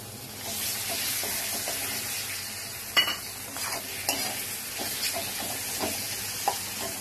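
Spices such as cumin and coriander frying in fresh katla fish oil, a continuous close sizzle and hiss with occasional sharp spatters and pops, no speech.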